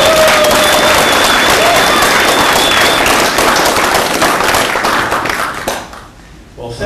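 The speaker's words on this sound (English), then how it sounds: "So maybe another applause." An audience applauds event organizers at a free software conference, a loud, dense burst of clapping that holds steady for several seconds before thinning out and fading near the end.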